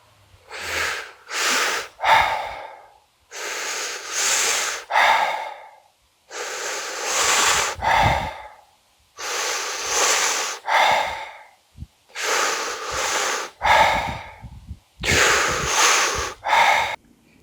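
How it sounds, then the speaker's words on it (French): Conscious connected circular breathing in a breathwork demonstration: loud, close deep breaths in repeated cycles, each a sharp inhale followed by a long audible exhale, with brief gaps between rounds and no talking. "C'est intéressant de noter que cette respiration, quand elle est faite par le nez, elle se rapproche de ce que devrait être notre respiration idéale."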